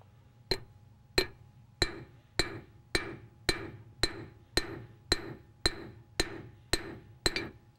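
A hand hammer strikes metal wire on an anvil to forge a taper, giving about a dozen sharp, evenly spaced ringing blows, each with a short metallic decay, close and clear with no talk.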